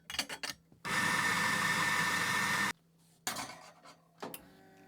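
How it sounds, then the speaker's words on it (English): A Mahlkönig espresso grinder grinds coffee at a fine setting in one loud, steady burst of about two seconds, close by, framed by short clicks and handling knocks before and after. "I'm going to try the new grind size of 230 microns to see how we go."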